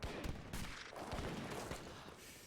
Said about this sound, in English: Heavy cannon bounce shots.